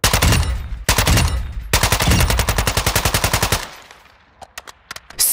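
Automatic fire from the TR-76 Geist assault rifle in Warzone, loud close rapid bursts with a steady rattling rhythm, a short pause, then a longer sustained burst followed by a few scattered single shots and clicks.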